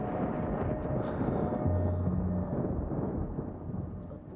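Rain falls with a low rumble of thunder in a dramatic movie scene, a broad steady wash of noise with a deep, rolling swell in the middle and a brief tonal note over it.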